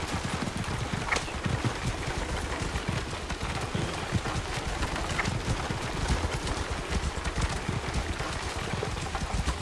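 Horse hooves clip-clop in the video game Assassin's Creed Origins, a steady quick patter of hoof beats over a rushing background wash, moderately loud and continuous, with no talking.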